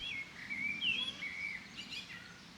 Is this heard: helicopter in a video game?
no